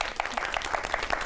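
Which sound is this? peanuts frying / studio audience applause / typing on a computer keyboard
studio audience applause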